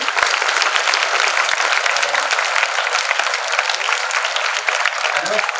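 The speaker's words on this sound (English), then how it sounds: "Please clap for sir, ma'am also." An audience claps steadily for a retired Indian Air Force captain at a career session, dense continuous applause filling the room, with a few faint voices underneath.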